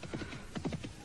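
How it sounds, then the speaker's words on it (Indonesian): A horse approaches with soft, rhythmic clip-clop hoofbeats and a faint whinny, quiet and fairly distant over a low hum. "siapa yang datang dengan memakai kuda itu, Buma?"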